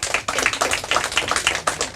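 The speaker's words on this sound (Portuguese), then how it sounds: "Palmas para eles." An audience claps for quiz teams at a Portuguese-language quiz final. The clapping is close and uneven and lasts only a couple of seconds.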